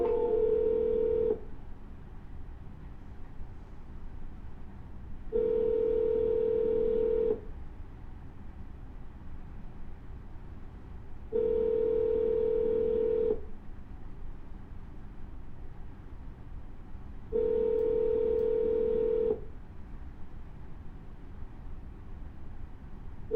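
A phone line rings while a call to a property seller is redialed: four evenly spaced ringback tones, each about two seconds long, separated by steady gaps of quiet line hiss.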